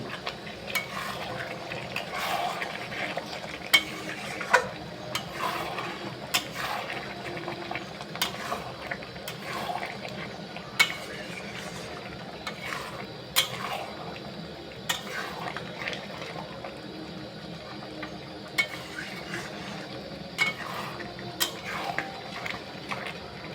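Mutton curry cooks uncovered in its own onion juices while a spoon stirs it, with a steady low simmer underneath and repeated sharp scraping clicks as the utensil knocks against the pot.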